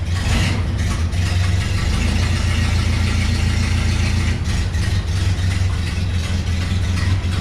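A barn-find Ford Model A engine runs on its own, a steady low idle with a constant loud rumble and no talk over it.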